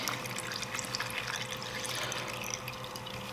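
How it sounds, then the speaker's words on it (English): Engine oil drains from a 2017 Honda CRF250L motorcycle in a steady liquid trickle and patter, close and continuous with faint dripping texture. "the oil's still coming out of there because of the oil that was in the oil filter from running it."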